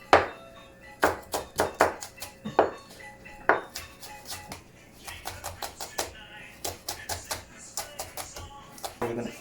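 A knife chops deseeded green chilies in a home kitchen, rapid sharp taps in short bursts against a board, close and crisp with brief pauses.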